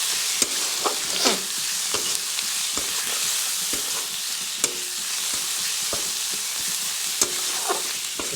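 Spices and tomato frying in a pan for egg pasta: steady sizzle with repeated sharp scrapes of a spatula stirring, close and with no voices.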